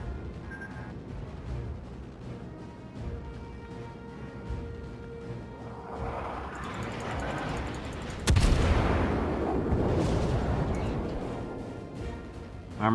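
Heavy warship gun salvos boom in World of Warships during a battle involving the heavy cruisers Haguro and Nachi. A big crashing blast rolls out late, over engine rumble, and a voice talks throughout.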